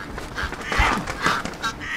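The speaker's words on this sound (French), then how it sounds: "Les canards." Ducks quacking in a rough, overlapping jumble, a few louder calls standing out against a noisy, breathy background.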